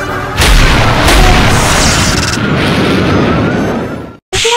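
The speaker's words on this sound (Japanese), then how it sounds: "後ろの車両が外れて爆発した？" A detached rear train car explodes in a heavy, sustained roaring blast that rumbles loudly for about four seconds before cutting off abruptly.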